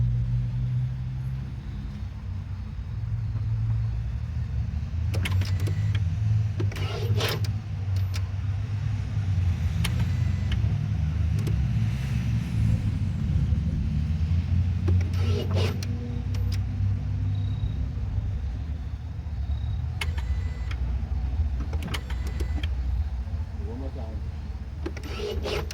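A 2014 Ford Focus engine, just after a shift actuator replacement, runs at a steady low rumbling idle for the whole stretch, with occasional sharp clicks and taps on top.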